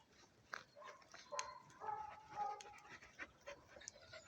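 Dogs panting and giving soft whimpers and small yips, quiet and close.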